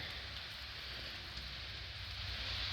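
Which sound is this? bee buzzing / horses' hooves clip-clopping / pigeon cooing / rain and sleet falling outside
rain and sleet falling outside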